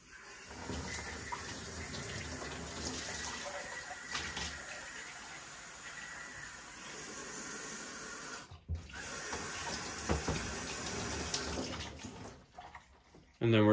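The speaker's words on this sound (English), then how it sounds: "we're just going to run it under clean water." Running tap water rinses a Canon printer ink absorber pad, a steady broadband splashing flow that continues loud for most of the stretch, with a brief break partway through before it resumes.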